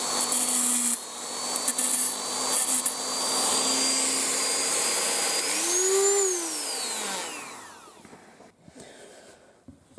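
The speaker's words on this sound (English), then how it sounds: "So with your Dremel, if you're going to be cutting track" Dremel rotary tool cutting through model railway track, a loud sustained high-pitched whine that rises and bends in pitch near the end as the cut finishes, then drops away to quieter handling noise.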